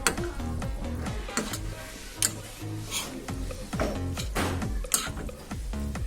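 A spoon stirs chicken taco filling in a hot pan, with a steady sizzle under repeated scraping and clinking strokes at an uneven rhythm.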